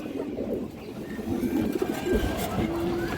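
Soft, low coos of high-flyer and racing pigeons at a pigeon farm repeat through the clip against a steady background murmur, with the birds sounding close.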